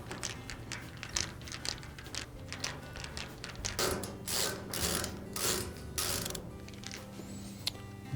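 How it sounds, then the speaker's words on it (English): Screws being backed out of a Maytag washer cabinet at the drain connector with a hand tool, a close, quiet run of ratcheting clicks and creaks with a few sharper knocks. "now we will remove the 4 5/16 screws that hold that drain connector to the cabinet"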